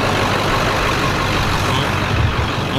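A Ford Mustang with a swapped Coyote V8 drives back toward the listener, its engine a steady, loud rumble under broadband road and wind noise that holds for the whole stretch with no talk.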